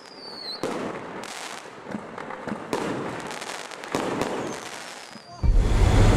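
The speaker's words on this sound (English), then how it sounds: "The fireworks display fails to calm their emotions." Fireworks crackle and pop in rapid bursts, with whistles rising between them and a loud boom toward the end.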